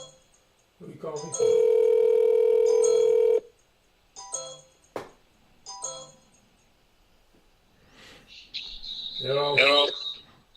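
A telephone dial tone sounds for about two seconds, followed by short ringback or keypad tones during a live broadcast call. A voice comes in at the end.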